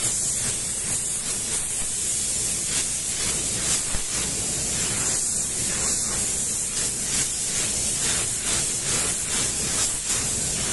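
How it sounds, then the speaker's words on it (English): A spray gun lays down paint for a budget car paint job, giving a steady, close hiss of atomised spray that runs unbroken for the whole stretch with no talking. "Let's start spraying."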